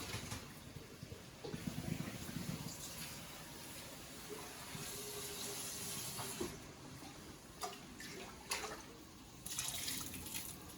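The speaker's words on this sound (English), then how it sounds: "I'm going to drain the rice." Cooked rice is drained while water runs and splashes, a steady close hiss of pouring water with faint clinks, for khoresht gheymeh preparation.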